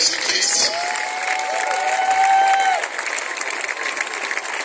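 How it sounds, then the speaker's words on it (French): A church congregation applauds loudly and continuously in a dense wash of clapping, with faint crowd voices and a few whistle-like tones mixed in, tapering slightly toward the end. "Acclame très fort."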